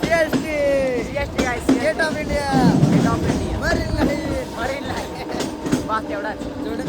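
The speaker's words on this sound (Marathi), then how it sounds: "आई आहे वरून ट्रेन आली आहे" Train passing overhead on a bridge in Mumbai, a loud rumble with rhythmic clickety-clack of wheels on rails, close and continuous under people talking.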